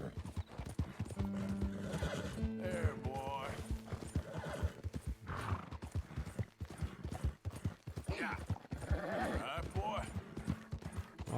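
In the video game Red Dead Redemption 2, hooves clip-clop steadily while a horse whinnies several times, with a person talking over the sounds throughout.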